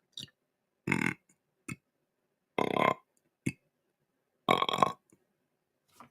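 A hunter imitates a deer grunt call by burping, producing four or five short, low, throaty grunts spaced apart, close and isolated against silence.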